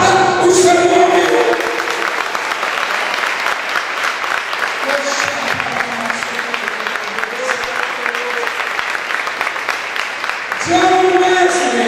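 A church congregation applauds loudly and steadily for about ten seconds, dense clapping from a large crowd, with brief spoken voice or music at the start and end framing the applause.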